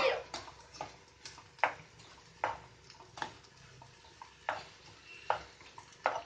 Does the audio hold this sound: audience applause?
no